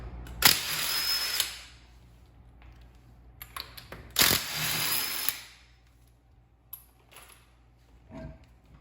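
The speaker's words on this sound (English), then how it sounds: "I'm going to use my wheel lock key to remove them" A power tool with a wheel lock key spins off the lug nuts from the wheel studs of a Fiat 500 Abarth. Two close, loud whirring bursts of about a second each are followed by quieter clicks and handling noises.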